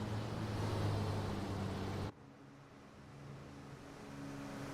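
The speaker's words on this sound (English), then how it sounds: "Look at how sideways Robin's having to get that Scania, though." Racing truck engines, including a Scania and an Iveco, roar in a racing video game at the Hungaroring circuit. A loud, dense engine drone holds steady, then drops sharply to a quieter, lower hum that slowly builds again.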